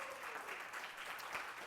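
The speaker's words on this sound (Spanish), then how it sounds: "¿Cuántos le damos un aplauso al Señor por ese milagro?" A church congregation claps together in a broad, even wash of applause that holds steady at moderate distance and fairly low level throughout.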